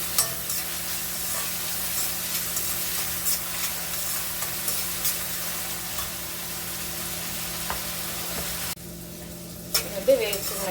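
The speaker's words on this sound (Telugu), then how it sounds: "ఇప్పుడు ఆనియన్స్ వేద్దాం." Chopped onions sizzle and fry steadily in a hot pan of oil for a ridge gourd curry, a continuous close crackle with occasional stirring, going briefly quieter near the end.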